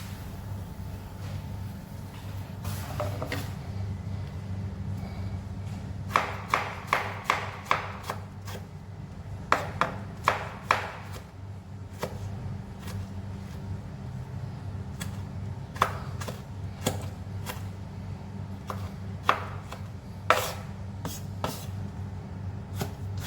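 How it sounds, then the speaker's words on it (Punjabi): A knife chops tomatoes on a cutting board while an egg masala pasta is prepared, giving sharp, irregular taps in short bursts over a low steady hum, close and clear with no voices. "ਤੇ ਹੁਣ ਆਪਾਂ ਟਮਾਟਰ ਨੂੰ ਵੀ ਵੀਰੇ ਵੀਰੇ ਕੱਟ ਦਿੰਦੇ ਹਾਂ"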